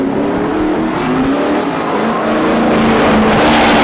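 Two LS-engined drift cars at a tandem drift competition roar loudly and continuously, engines revving hard together with a steady high-pitched drone that builds toward the end.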